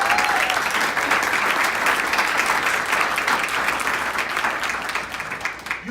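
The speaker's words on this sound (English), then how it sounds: "Give yourselves a round of applause for education." Audience at a business rally applauding, a steady dense patter of many hands clapping that fades slightly toward the end.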